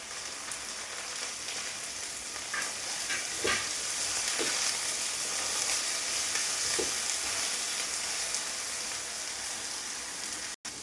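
Onions fry in a pan for a date curry with a bright, continuous sizzle, broken by a few soft clinks and scrapes of stirring.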